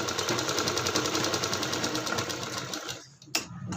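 A sewing machine runs steadily, stitching the shoulder seam of a blouse, a fast even rattle close up that stops abruptly near the end, followed by a brief click.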